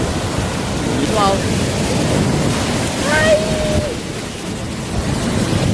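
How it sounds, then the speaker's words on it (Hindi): A big ocean wave surges and crashes on a Goa beach, a loud broad roar of surf and wind buffeting close by, with a voice briefly audible over it. "बहुत बड़ी लहर थी, मुझे पीछे जाना पड़ा."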